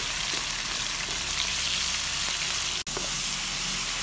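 Meat stir-fried in a wok to cook off its moisture sizzles in a dense, constant hiss, with a short break partway through and no voices.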